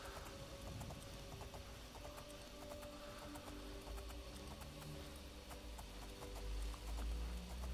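Steady clip-clop of horse hooves on a narrow bridge in the video game Oblivion, moderately close, with a low ambient hum underneath and no talking.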